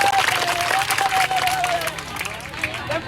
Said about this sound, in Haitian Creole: Nous allons battre gros bravo pour Spirit.